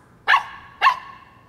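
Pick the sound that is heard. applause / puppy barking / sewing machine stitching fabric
puppy barking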